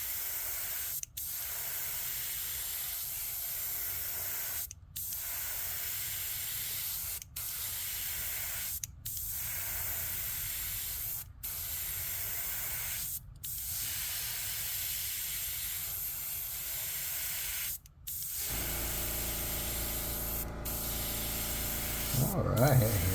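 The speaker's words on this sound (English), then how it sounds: "Okay, it's spraying really slow." A paint spray gun misting paint while a trout is painted, a steady loud hiss broken by brief pauses roughly every two seconds, ending in a quieter different hiss with faint clatter.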